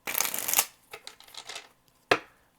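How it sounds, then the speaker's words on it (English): Tarot cards riffle in a brisk shuffle, a dense papery flutter followed by softer handling rustles and one final sharp snap of the deck, close and clear with no talking. "Last shuffle."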